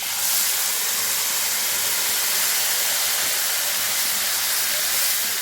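Tomato paste hits hot oil that already holds dissolved coriander powder for masala paneer, giving a loud, steady hissing sizzle that holds evenly throughout.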